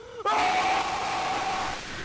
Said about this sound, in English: The scream at the end may indicate that Bubba Bubbafant is most likely dead